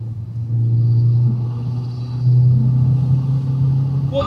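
A car engine idles with a Greddy Type-S blow-off valve fitted, a loud, low, steady rumble close by that swells slightly midway, with no voices over it.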